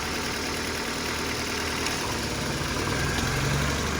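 A car engine idles roughly with its throttle position sensor unplugged, a steady close drone with uneven low rumble and slight surging throughout, no voices.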